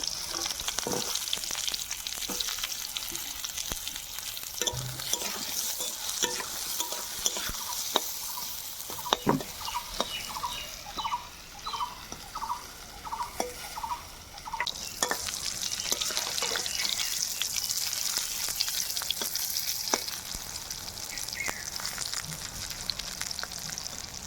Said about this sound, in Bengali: আর যে তেল আছে, ওই তেলে পটলগুলো ভেজে নেব।